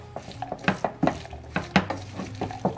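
Aloo chana chaat of potatoes, chickpeas, coriander, green chillies and tomatoes being mixed in a bowl, with a spoon clinking and scraping in a quick, uneven rhythm of close, moderately loud knocks.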